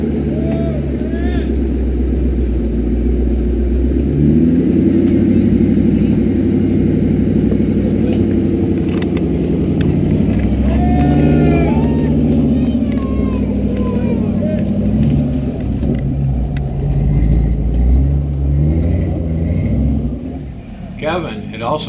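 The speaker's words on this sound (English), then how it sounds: "He was driving a buggy loaded with the whole family that was really specially built for crawling around on these rocks" A family-loaded buggy purpose-built for rock crawling drives a rocky mountain trail, its engine holding a steady loud rumble throughout, with uneven surges as it climbs and voices talking over it.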